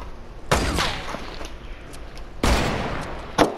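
Gunshots in the video game Fortnite during a sniper battle, two loud sharp blasts with rumbling tails about two seconds apart, followed by a shorter crack.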